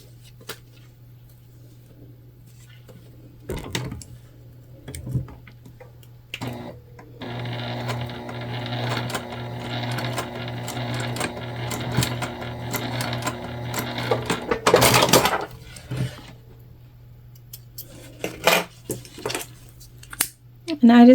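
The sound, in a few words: sewing machine basting a tote bag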